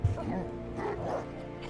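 Minecraft dogs barking and yipping in the game, short bright barks and a whimper close up over a steady low game background, with a voice talking over them.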